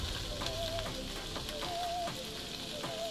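Carrots, potatoes and onions frying in a pan for fried rice make a constant close sizzle, broken by light spatula scrapes and a few faint squeaky strokes repeating about every second, with no voices.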